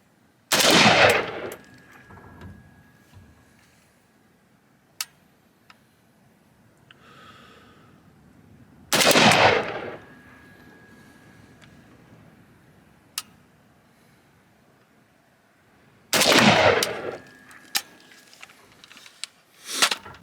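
Three loud, sharp bursts of rifle fire, each a short cluster of shots with a ringing tail, spaced several seconds apart in open air while communist-made rifles are zeroed on a range.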